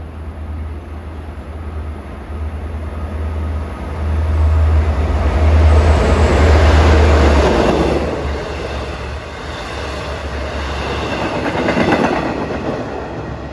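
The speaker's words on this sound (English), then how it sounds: "417 speeding east down track 1, the center track, is train 656 en route from Hunters Point Avenue to Port Jefferson." Long Island Rail Road diesel train speeding east on the center track of a triple-track line near Carle Place and Mineola on a damp day, a steady rumbling roar swelling as it passes close by and then fading, with no talk.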